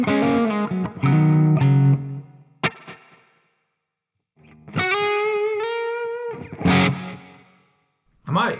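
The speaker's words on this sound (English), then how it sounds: "now the delay is a little bit louder at the max position." Electric guitar played through a Friedman IR-X and a Fractal FM3 with a loud delay, distorted phrases followed by clear trailing repeats and gaps, then sustained chords ringing out with echoes.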